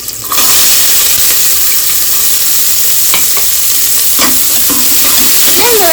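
Onions frying in oil in a home kitchen pan, a loud steady broadband sizzle with occasional scraping clicks from stirring, close and continuous, no voices.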